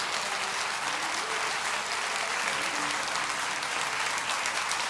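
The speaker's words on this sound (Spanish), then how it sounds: "Démosle un gran aplauso al Señor." A church congregation applauds in a sustained, even wash of clapping from many hands, moderately distant and continuing without a break for several seconds.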